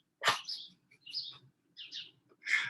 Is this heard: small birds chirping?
yes